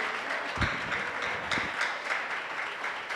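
Congregation at a church retreat applauding steadily, a dense wash of clapping hands that holds at an even level throughout.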